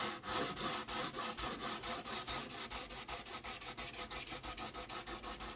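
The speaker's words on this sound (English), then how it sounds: "now we take our sanding sponge" Steady rhythmic rubbing of a sanding sponge on a building model, quick regular strokes, close and continuous with no talking.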